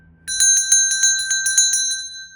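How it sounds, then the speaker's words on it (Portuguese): A notification bell chimes rapidly, a bright bicycle-style bell ringing about ten quick strikes in an even rhythm, clear and close, then its ringing fades out. "aciona o sininho das notificações"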